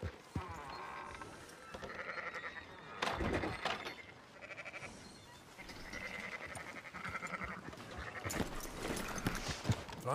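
Sheep bleat repeatedly in the open countryside of the Red Dead Redemption 2 game world, several calls in short, irregular bursts over a soft outdoor ambience, with faint hoof clatter and no talking over them.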